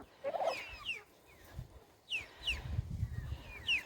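Purebred domestic turkeys gobble in repeated bursts, three or four rattling calls close by, with clucks and farmyard shuffling underneath.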